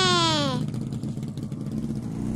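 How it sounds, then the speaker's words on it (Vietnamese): A motorcycle engine starts during a toy play scene with a Barbie doll. A rising whine is followed by a steady, close mid-pitched engine drone. "Nổ máy và đi thôi."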